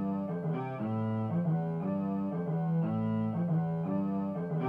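A synthesized violin patch from the Purity plugin plays a looping melodic phrase of sustained, stepping notes in a beat, clear and unaccompanied by voices.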